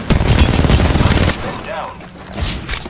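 Bursts of automatic gunfire in a battle royale shooter, a dense volley for over a second, then quieter game sounds and a second burst near the end, all loud and close.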